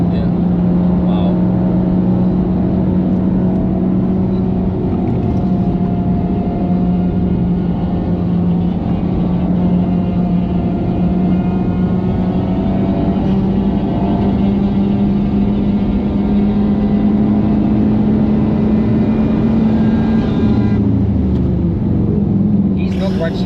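A Honda Civic Type R FK8 drives at the Nürburgring with a steady, loud engine drone holding a constant pitch, dipping briefly near the end, while people talk over it.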